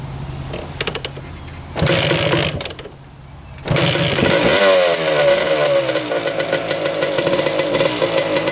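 A rare two-stroke race quad, choked and on reserve fuel, cranks in short bursts and fires, then settles into a loud, buzzy, revving idle that rises and falls close by.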